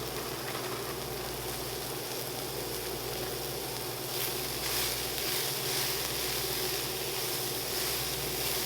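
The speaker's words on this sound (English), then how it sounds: "I'm going to go ahead and add in our cauliflower rice" Cauliflower rice hisses and sizzles steadily in a hot pan coated with garlic and onion, a constant broadband crackle that swells a little louder midway through.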